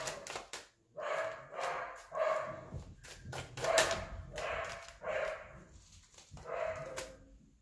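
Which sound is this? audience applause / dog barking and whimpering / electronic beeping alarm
dog barking and whimpering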